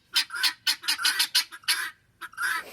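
Guinea hens on a homestead give a rapid run of harsh, repeated honking calls, loud and close, in uneven bursts with no talk.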